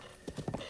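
A few quick horse hoofbeats in Zelda Breath of the Wild, three or four soft muffled thuds in a short run, fairly faint against a low steady background.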